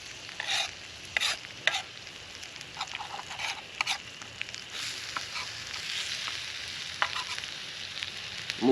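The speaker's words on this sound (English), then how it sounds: "Well, I got my egg cooking." An egg fries in a metal canteen cup over a Trangia stove outdoors, giving a faint, steady sizzle with scattered pops and scraping sounds and no talking.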